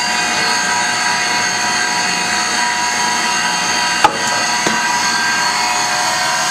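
A Kombi Schliff tool and cutter grinder runs with both wheels spinning, giving a steady loud whirring hum with high tonal whine, broken by a couple of brief sharp knocks.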